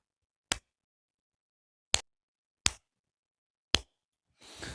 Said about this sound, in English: In fact, that deserves a slow clap.